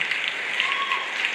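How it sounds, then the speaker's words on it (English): Audience applause at a high school band concert, a steady dense wash of clapping filling the whole short stretch at moderate loudness, with no distinct voices over it. "receive some applause"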